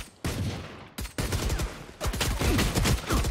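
Rapid bursts of gunfire ring out during a Valorant match on the Ascent map, loud and close, in repeated volleys with short gaps between them.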